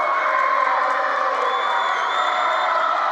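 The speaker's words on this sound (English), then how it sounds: "Crowd on their feet." A high school basketball crowd stands and cheers during a free throw in a home gym, a loud, sustained wall of shouting and whooping that holds steady throughout.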